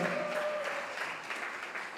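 Applause from a crowd at an award ceremony, a moderate wash of clapping that carries on steadily, fairly distant.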